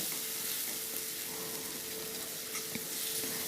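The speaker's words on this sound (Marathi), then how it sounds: "चांगलं भाजून घ्यायचं, परतून घ्यायचं चांगलं तेलात।" Fresh coconut with ginger-garlic paste fries in oil for a Marathi matki batata curry, making a close, steady, even sizzle that runs throughout.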